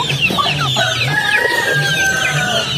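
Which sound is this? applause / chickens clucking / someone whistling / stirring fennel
chickens clucking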